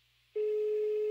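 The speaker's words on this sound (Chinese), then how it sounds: "电话响了很久都没有人接，夏沫的眉头越来越加的皱紧" A phone call rings out unanswered, a single steady electronic tone starting after a brief quiet moment, heard close through the handset.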